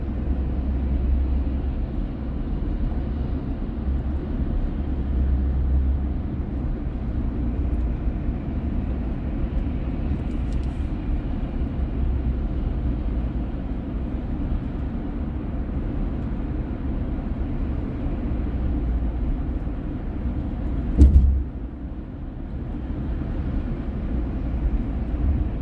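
Steady road traffic near Fort McHenry in Baltimore, a continuous low rumble of passing vehicles with one brief louder thump around the twenty-first second, no voices.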